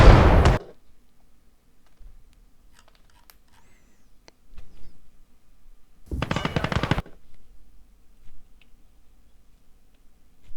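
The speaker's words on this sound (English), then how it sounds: "them firing their rifles is futile" Machine gun and rifle fire in a WWII video game: a loud burst of automatic fire at the start and another rapid burst midway, with faint scattered shots and quiet gaps in between.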